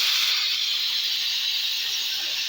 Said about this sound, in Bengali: একটা সিটি বাজলো